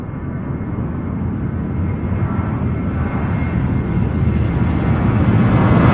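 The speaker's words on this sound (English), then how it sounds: "This is Southwest Flight 576." A Southwest Airlines jet airliner departs from Louisville airport, its broad engine roar holding steady and slowly swelling louder throughout, with no talking.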